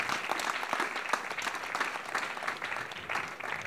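A church congregation claps together in sustained, even applause, many hands blending into a continuous dense patter that holds steady for several seconds.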